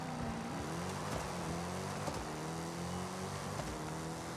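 A Dodge Challenger Super Stock engine in the Forza Horizon 5 video game revs loud and close near 4,000 RPM with rising and dipping tones during a burnout and launch, with no talking.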